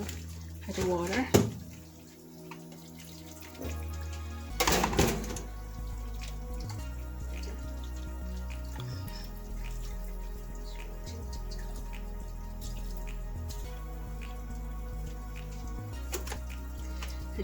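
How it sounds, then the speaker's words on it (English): Warm water is poured into a cooking pot to rinse it, giving splashy trickling bursts early on, then a softer continuous running-water wash under a low kitchen hum. "I just use the water to just rinse the pot."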